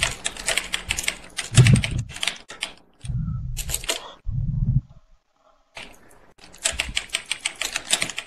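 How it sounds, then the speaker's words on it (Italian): Computer keyboard being hammered hard during a handcam gaming session, loud rapid clacking bursts in several runs with short gaps and heavy low thumps from struck keys. "Sta spaccando la tastiera."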